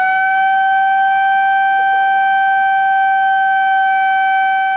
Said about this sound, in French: 8h30, la sirène retentit.